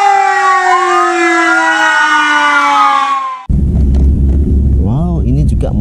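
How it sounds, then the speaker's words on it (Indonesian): A fire truck siren wails loudly with long, slowly falling tones. It then cuts abruptly to a busier street scene with rumbling traffic, rising and falling tones and voices. "Wow, ada mobil pemadam kebakaran,"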